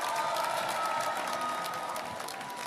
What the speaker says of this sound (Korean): 여러분 큰 박수로 환영의 박수 부탁드립니다